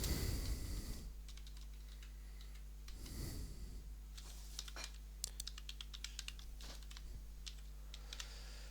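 Computer keyboard typing while PHP code is entered into a file: irregular, fairly quiet key clicks in short runs over a steady low electrical hum.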